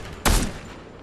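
A single loud gunshot burst in the video game Fortnite, a sharp, sudden crack with a short, fading tail that stands alone over a quiet background.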